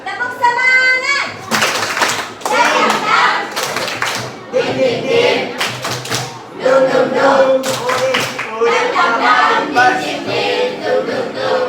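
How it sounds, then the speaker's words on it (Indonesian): Classroom children performing a rhythmic spirit-clap routine, loud patterned bursts of clapping alternating with chanted voices and a teacher's speech, close and lively throughout. "Oke, tepuk semangat."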